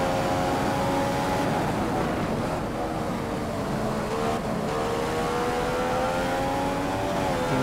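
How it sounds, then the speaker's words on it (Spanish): A Force India car with a Mercedes engine at the Spanish Grand Prix in F1 2015 screams loudly and continuously, its pitch climbing and dropping through gear changes as it races. "el motor Mercedes con el Force India que llevamos, Buah, qué bestialidad"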